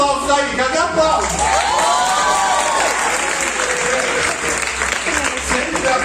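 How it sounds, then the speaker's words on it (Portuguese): An audience on a late night show applauds loudly and steadily for several seconds, dense clapping with a few voices mixed in, close and continuous. "Cadê os aplausos aí? Cadê aplausos?"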